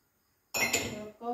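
Plates and dishes clink sharply together as they are unpacked from a box, a short bright burst of ceramic knocks after a silence, close and fairly quiet.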